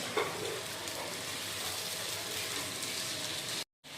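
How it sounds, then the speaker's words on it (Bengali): Chickpeas being sautéed and stirred with salt and spices in a pan for ghugni, a steady close sizzle with light scraping of the spoon against the pan throughout, cutting off abruptly just before the end. "লবণটা দেওয়ার পর বন্ধুরা এখন আমরা ছোলাটাকে একবার মশলার সাথে ভালো করে কষাবো।"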